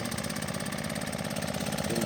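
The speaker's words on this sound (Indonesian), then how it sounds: "Ini kita di lokasi penanaman dengan mesin" Rice transplanter planting machine engine running at a rice planting site, a steady loud mechanical drone with a fast regular chugging rhythm, close and continuous with no talk.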